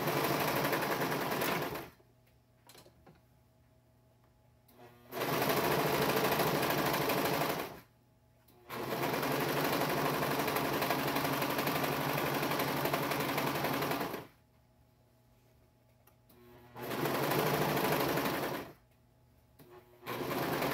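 A serger sewing machine stitching clothes runs in four loud, steady, whirring bursts of a couple of seconds each, separated by short pauses, close up with no talking.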